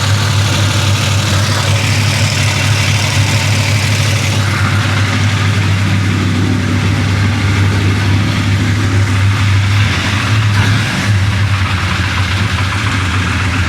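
A big block Chevy 427 V8 with a possible valve problem idles steadily at close range, a deep, loud, continuous rumble with a slight dip toward the end.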